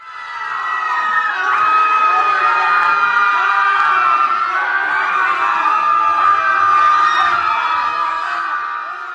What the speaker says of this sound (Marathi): एकाच वेळी अनेक माणसांच्या किंचाळण्याचा आवाज वातावरणात घुमला